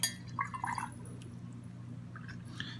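A paintbrush swished in a glass of water while testing watercolor swatches, giving two short clinking, sloshing bursts, close and quiet, with near silence between them.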